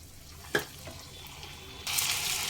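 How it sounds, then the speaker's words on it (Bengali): Lukewarm water pours into mutton frying in a pan with spices, a sudden rushing splash after a quiet stretch with a single clink, continuing steadily to the end. "এবার দেব হালকা গরম জল"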